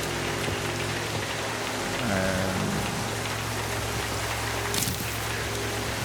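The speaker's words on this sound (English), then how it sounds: "Oh my god, that's a lot of rain." Heavy rain in the video game Docked pours as a dense, constant hiss, loud and unbroken throughout, with a brief low tonal sound partway through and no talk.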